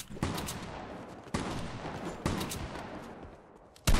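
Gunfire in the Fortnite game, with four loud, sharp shots spaced about a second apart, each trailing off into a reverberant tail.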